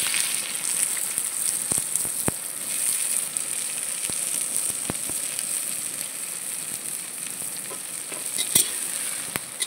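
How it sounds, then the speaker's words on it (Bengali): Sliced onions frying in hot oil with whole spices for a meat curry, a steady bright sizzle with occasional sharp clicks of a spoon against the pan, close and continuous, no talking. "পেঁয়াজ দিয়ে দিল ফোড়নে, মাংস রান্না হবে এখন।"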